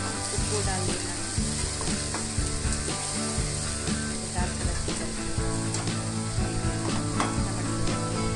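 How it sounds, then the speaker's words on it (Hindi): Ginger garlic paste with finely chopped tomatoes frying in a pan for a boiled potato sabzi, giving a steady close sizzle with scraping stirring clicks throughout and no talk. "और इसमें अदरक लहसुन का पेस्ट डाल दीजिए। अच्छी तरह से फ्राई करना है।"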